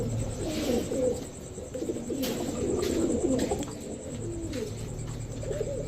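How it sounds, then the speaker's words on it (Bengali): Indian Kaldam pigeons coo in repeated soft, throaty calls close by, several birds overlapping over six seconds against a faint background hiss. "চোদ্দ লেজের একটা কালদম মাদি কবুতর দেখেন ইন্ডিয়ান কালদম"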